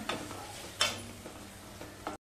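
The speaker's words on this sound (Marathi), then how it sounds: "कांदा आणि टोमॅटो चांगलं परतवून घ्यायचंय" Onion and tomato being sautéed and stirred in a pan for aloo methi sabji, a soft continuous sizzle broken by several scraping stirs of the spoon, close by with no talking.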